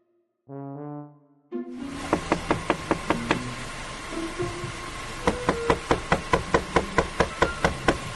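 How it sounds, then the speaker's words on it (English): A policeman raps on the window of a 2001 Honda CR-V, giving a steady run of sharp, close knocks in two clusters, with a brief low hum before them. "The policeman knocking on the window of this 2001 Honda CR-V is Officer Joseph Guile."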